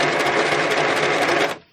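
A sewing machine stitches through junk journal book pages in a fast continuous whirring run of needle strokes, close and loud, stopping abruptly after about a second and a half.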